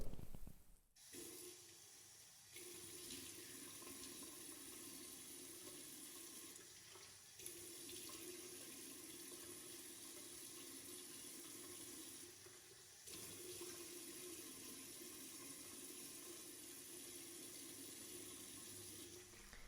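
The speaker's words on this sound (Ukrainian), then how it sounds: "Тепер, коли я помасажувала засіб на обличчі, я його змию водою." Tap water runs steadily into a sink with soft splashing as a face is rinsed of cleanser, with brief breaths and pauses in the flow.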